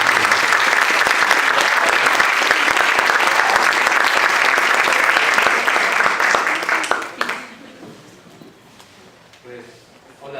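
Audience applause at a neuroscience and sport talk, welcoming the first speaker: a crowd claps loudly and steadily for about seven seconds, then fades into scattered claps and quiet room noise.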